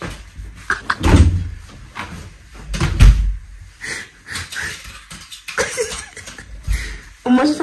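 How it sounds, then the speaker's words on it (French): A door is shut with a couple of solid knocks and thuds, mixed with coughing and wheezing breath while people talk around it. "Au moins, j'ai fermé la porte."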